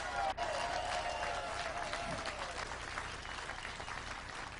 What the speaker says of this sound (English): Give yourself an applause and a hand.